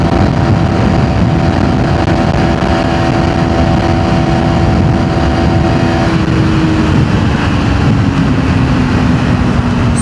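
A 2026 KTM Duke 390 (349cc) motorcycle runs hard in 5th gear at around 155 km/h. The engine holds a steady, loud drone under strong wind rush, and its tone shifts slightly partway through.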